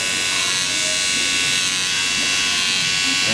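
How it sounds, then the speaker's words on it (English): An electric hair clipper buzzes steadily and loudly while cutting across stiff, dry hair, with someone talking over the constant hum. "That helped the clipper be able to cut across the hair because it's nice and stiff and dry."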